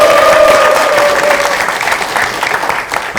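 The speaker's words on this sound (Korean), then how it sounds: "다시 한번 도민의 마음을 넣어서 큰 박수와 함성을 부탁드릴까요?" Applause with some cheering from the audience at a Democratic Party South Chungcheong provincial budget policy council event, steady and dense throughout, with a faint tone running underneath in the first half.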